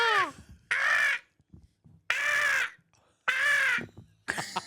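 A person imitates a crow, giving four loud, harsh drawn-out caws separated by short pauses, with faint background sounds between them.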